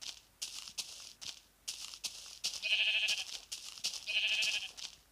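Blocky sheep bleating in Minecraft Pocket Edition, several short repeated bleats in quick succession, loud and close, with brief gaps of quiet between them.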